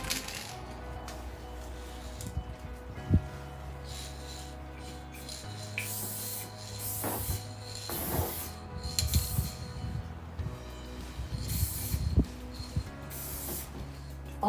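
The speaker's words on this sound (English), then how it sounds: "you certainly can smell it when you're spray painting" An aerosol spray paint can, fitted with a new cap, sprays graffiti in a series of hissing bursts of varying length. Faint clinks and rubbing sounds fall between the bursts, and no one talks.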